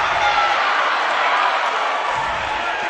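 Home crowd at a girls' high school basketball game roaring after Itawamba takes its first lead, a steady loud wash of cheering from the stands, with no distinct voices standing out.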